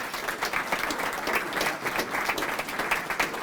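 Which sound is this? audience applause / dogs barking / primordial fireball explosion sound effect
audience applause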